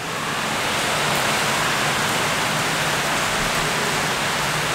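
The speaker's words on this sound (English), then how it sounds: "It's raining really heavily right now." Heavy rain pours down steadily outdoors at a playground, a dense, loud, even hiss that holds for the whole stretch with no talk over it.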